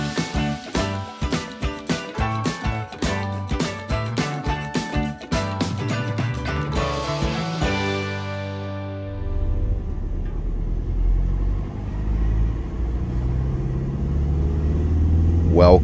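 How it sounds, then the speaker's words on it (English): Van driving along the small roads of St Peter Port, Guernsey, its engine a steady low rumble under rhythmic music that fades, leaving the road noise alone. "Welcome on board the van for today's drive along"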